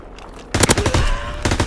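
Automatic machine gun fire in a video game with an MP40 triple-feed setup, loud rapid bursts of close shots starting after a brief quiet lead-in, with sharp repeated cracks and a short pause before more firing.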